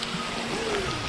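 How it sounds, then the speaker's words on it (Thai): Rain falls at Thi Lo Su waterfall in Tak, a dense steady hiss of drops on surfaces blended with rushing water, close and unbroken. "เพราะว่าฝนมันตกครับ"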